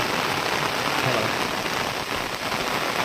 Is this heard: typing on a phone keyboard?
no